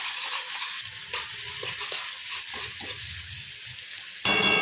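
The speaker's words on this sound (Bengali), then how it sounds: "পেঁয়াজ আর টমেটোটা খুব বেশি কড়া করে ভাজবো না, এর মধ্যে দিয়ে দেবো এবার চিংড়ি মাছটা" Prawns fry in a pan with onion and tomato, a moderate sizzle with faint scraping stir sounds, and a brief louder burst at the end.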